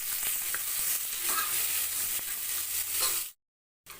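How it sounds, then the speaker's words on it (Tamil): Chopped onions sizzle steadily in hot fat in a pan while cooking ghee rice, a continuous close frying hiss with faint stirring scrapes, then an abrupt cut to silence near the end. "வெங்காயம் சேர்த்து நல்லா வதக்கிக்கோங்க"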